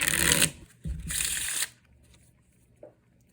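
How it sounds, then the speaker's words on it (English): Deck of playing cards riffle-shuffled at close range, two crisp rapid bursts of fluttering card edges, each ending in a soft bridge, followed by quiet handling and a faint tap. "I'll go ahead and have my spectator shuffle the deck just to prove that there's no setup"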